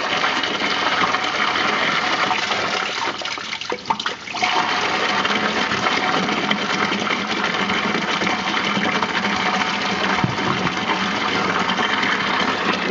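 Old rusty water pours steadily from a John Deere 820 tractor into a tub, a continuous close gushing rush that holds for the whole stretch with only a brief dip partway through.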